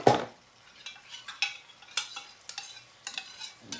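Water hits a pan of frying keema curry with a loud opening hiss, followed by a string of scraping, clattering stirs from a utensil against the pan, coming every half second or so.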